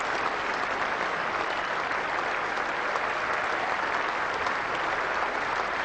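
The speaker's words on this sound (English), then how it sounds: "Loud applause around the ground" A cricket crowd at the 1997 England versus Australia third Test applauds Steve Waugh's second century of the match, with dense, steady clapping spread around the ground that holds at an even, loud level throughout.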